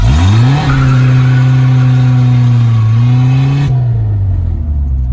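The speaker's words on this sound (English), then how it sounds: "I gotta go do a burnout, to make sure this mirror works" A Chevy S10 drift truck revs hard and holds a steady, loud engine drone during a burnout, with pitch sweeping up and then wavering before the engine note drops off near the end.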